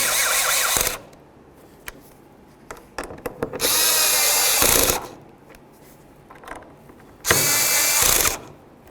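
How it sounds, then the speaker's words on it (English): Power tool snugging bolts on a window regulator of an 08-12 Jeep Liberty, heard as three loud, close bursts of whirring drive, each about a second long, separated by quieter clicks and handling noises. "We're going to start in all 3 bolts before we tighten any of them down completely. Okay, let's snug these down."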